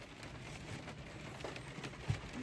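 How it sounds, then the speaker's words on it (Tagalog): Heavy rain pours steadily outside a parked vehicle during fishing season at Kasilof, Alaska, a soft continuous hiss with a few faint drops and knocks, low and even, with no talking. "So ito, malakas ang ulan eh."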